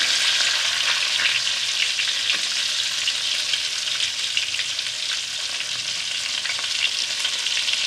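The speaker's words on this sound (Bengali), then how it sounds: "একদম লাল করে ভেজে দেবো" Egg-coated bhetki fish fingers deep frying in hot oil over a high flame, giving a loud, continuous, dense hiss of bubbling oil that stays even throughout.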